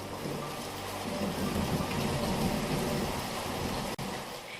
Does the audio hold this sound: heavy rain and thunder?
yes